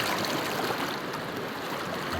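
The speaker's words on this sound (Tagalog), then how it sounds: "malakas na current ng tubig" A strong current rushes through the Bug-aw River in Leyte, a dense, steady roar of water flowing over rocks, close and continuous with no talk.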